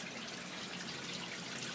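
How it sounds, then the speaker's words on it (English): Water spilling over a rock waterfall in a 100-gallon aquarium, a soft, steady trickling splash with no break, heard close and fairly quiet. "The rock waterfall and return is completely done"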